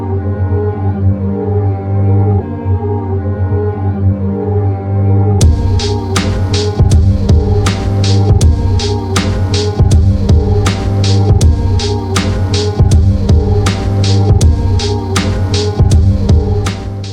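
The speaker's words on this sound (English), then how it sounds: "So this is the beat I cooked up for this video." A drum loop beat made in Ableton plays unprocessed: a low humming throb alone for five seconds, then crisp hi-hat and snare hits join in a steady repeating groove, loud and close.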